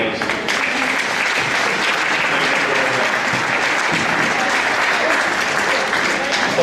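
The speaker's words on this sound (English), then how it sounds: "you should give your parents a big round of applause" A crowd at a winter sports awards ceremony gives parents a big round of applause, loud, dense and continuous clapping holding steady throughout with no talk over it.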